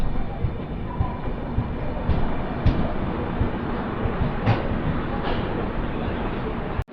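Train rolling into Udupi railway station on a wet day, a steady low rumble of wagons with faint rhythmic clacks and a few squeaks, heard from close by until the sound cuts off abruptly at the end.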